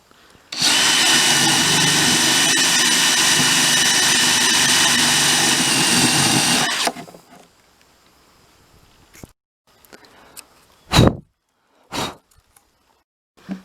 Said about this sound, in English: I'm going to start just by making a hole in the wood here